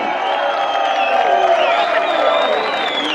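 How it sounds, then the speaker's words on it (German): Crowd at a long outdoor table festival in Cologne applauding and cheering loudly, with whoops and shouting voices over continuous clapping. "Gib ihm einen Applaus hinterher."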